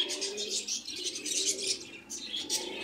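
Fancy pigeons at a busy pigeon market coo in soft, repeated throaty calls close by, mixed with higher chirps from other birds.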